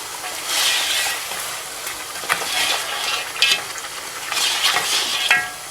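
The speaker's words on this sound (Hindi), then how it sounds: "यहाँ पर ये डालकर इसको आप अच्छी तरह पहले मिक्स कर लेंगे" A spoon stirs mutton curry frying with potatoes in a pot over a high flame, with a steady loud sizzle broken by scraping strokes and clinks against the pot.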